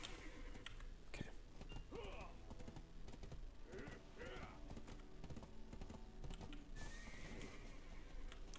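Horse in the Black Desert Online video game neighs and whinnies several times over a steady clip-clop of hooves, with game ambience and a person's voice talking throughout.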